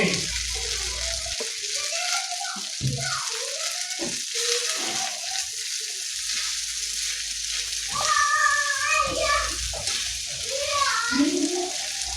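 Pasta sauce with curry leaves sizzles steadily in a hot pan, a continuous frying hiss with occasional stirring and liquid bubbling; a voice speaks over the cooking in short bursts.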